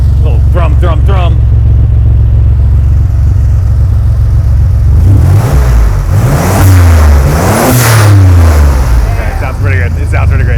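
Turbocharged Chevrolet S10 pickup built with all-wheel drive: the engine idles with a deep rumble, then blips hard in several loud, close revs that climb and fall. People talk over the idle before and after the revs.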